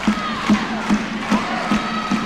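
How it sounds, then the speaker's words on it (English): A crowd on its feet at a men's college volleyball match in 1998, clapping in a steady rhythmic beat about twice a second while cheering and shouting carry on in the background of the gym. "Now the crowd on their feet, clapping,"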